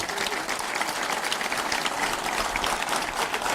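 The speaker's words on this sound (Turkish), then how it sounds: "onlar için bir alkış alabilir miyiz arkadaşlar?" An audience claps for national athletes at the opening of a spearfishing championship in Darıca, a dense, even wash of applause from a sizable crowd that stays loud and steady throughout.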